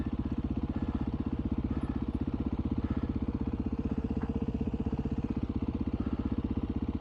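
A 2021 Beta 500 dirt bike works along a rough trail at Rampart Range, Colorado, its engine a steady, rapid, close putter with an even pulsing beat and no speech.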